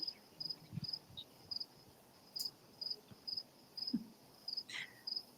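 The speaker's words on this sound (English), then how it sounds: "The crickets in the background of Stuart's audio" Crickets chirp outdoors in short regular bursts, a steady rhythmic trill repeating every half second or so, faint against a quiet background.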